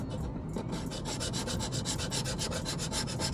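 A scotch pad scrubs residue off an engine part in quick, steady back-and-forth strokes, a close, rhythmic abrasive rasp with no talking.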